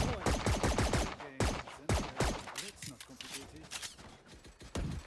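Rapid gunfire in a ranked match of the video game Valorant: dense, overlapping bursts of sharp shots sounding close and loud, with player voices mixed in.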